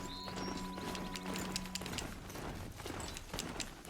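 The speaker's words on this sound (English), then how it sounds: "get on that horse" A horse's hooves clip-clop in the video game Horizon Zero Dawn, a quick, steady rhythm of soft thuds under a faint, steady game ambience, with no talk.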